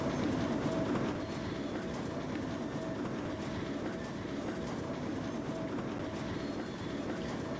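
A train with carriages rolls steadily along the track in the Trainz Simulator video game, a continuous rumbling drone with faint rhythmic clicking of wheels, heard alone at moderate distance.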